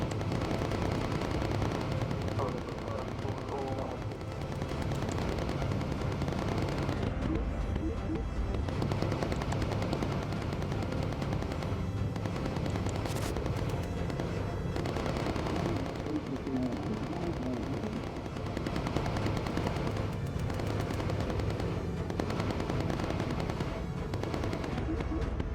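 Machine gun fire in the Bomber Crew video game, a dense continuous rattle of automatic shots mixed with rumbling engine and battle noise throughout, loud and unbroken.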